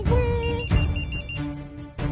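A cartoon character vocally imitates a mobile phone ringtone with a short, tuned, melodic phrase repeated in quick bursts, close and clear.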